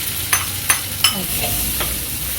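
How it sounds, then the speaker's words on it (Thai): Crab stir-fried in a hot pan with tomato for crab fried rice with glass noodles: a steady loud sizzle runs throughout, broken by three or four sharp scraping stirs of the spatula near the start. "เสร็จแล้วเราใส่ปูลงไปผัดให้หอมเลยค่ะ"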